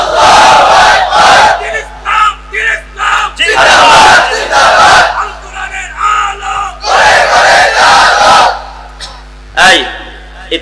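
A large crowd at a religious sermon shouts takbir in unison, four loud rising bursts of massed voices separated by brief pauses, with a faint steady hum underneath.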